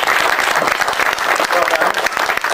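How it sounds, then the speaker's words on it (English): Audience at an astronomy club's Astronomy Day talk breaking into full applause, dense and loud sustained clapping with a faint voice or two mixed in beneath. "Let's give him a round of applause."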